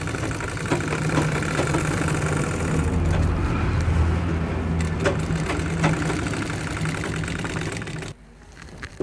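A sewing machine runs steadily while stitching a school skirt, its continuous motor hum and rapid needle chatter holding for about eight seconds before stopping abruptly near the end.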